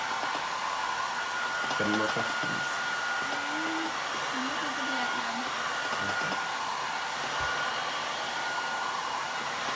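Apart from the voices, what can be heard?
hair dryer blowing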